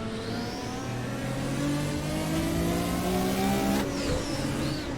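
A boosted racing car in Assetto Corsa roars steadily at high revs, accelerating, with the engine loud and close throughout.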